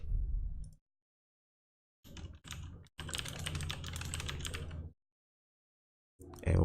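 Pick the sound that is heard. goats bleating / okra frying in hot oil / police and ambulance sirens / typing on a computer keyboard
typing on a computer keyboard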